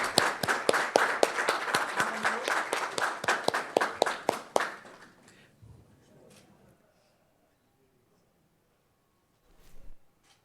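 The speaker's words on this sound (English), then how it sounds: "Round of applause, everyone," A round of clapping at an awards-style gathering, steady and fairly loud for about four and a half seconds before stopping abruptly, leaving near silence with a brief faint sound near the end.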